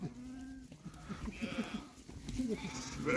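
Sheep bleating several times at a moderate distance, with a flock's shuffling and voices in the background.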